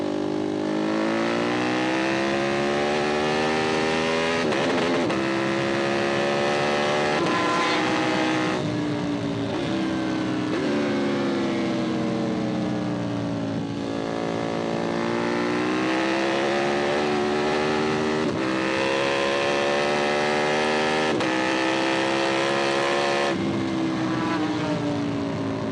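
A KTM Super Duke 1290R motorcycle pulls hard through the gears, its loud engine whine rising in pitch, dipping at each shift and climbing again, close and continuous with heavy wind rush throughout.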